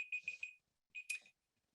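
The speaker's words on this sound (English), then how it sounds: "Sorry, that's my alarm." A digital alarm beeping in two short bursts of rapid chirps, faint and isolated with silence between, going off during an online policy seminar.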